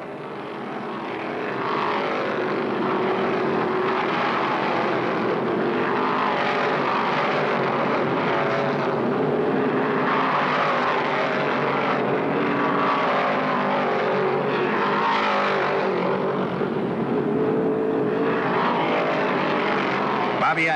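Plymouth and Dodge stock cars racing at Martinsville in 1972, a continuous dense roar of engines from a packed field with rising and falling surges, under steady commentary.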